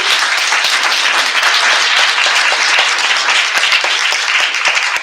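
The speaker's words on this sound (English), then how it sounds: "could we have a huge round of applause for these inspirations?" A conference audience gives a big, sustained round of applause for the panelists of a women-and-trade discussion, loud, dense clapping that stays even throughout.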